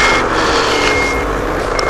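A Ski-Doo MX Z Renegade 800 snowmobile sounds a steady, loud reverse warning beep over its running engine, the tones repeating evenly and up close as the machine backs up.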